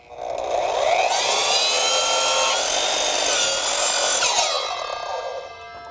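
An Evolution multi-material miter saw bevel-cuts through 2x lumber, the motor spinning up into a loud, harsh ringing cut of about four seconds before winding down, close and alone.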